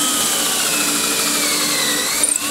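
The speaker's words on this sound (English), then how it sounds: "So just need to drill a couple of holes." A handheld power drill boring a couple of holes into a wood-turned cross-grain box, a steady close whine running throughout with a brief change in pitch near the end.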